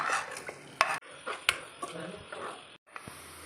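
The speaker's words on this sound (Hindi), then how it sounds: "कढ़ाई में आधा कप हम ऑयल डालेंगे। इसमें डालेंगे ये चॉप किया हुआ प्याज।" Chopped onion goes into half a cup of oil in a kadai, with soft stirring scrapes, a couple of sharp utensil clinks and a faint sizzle, quiet and close.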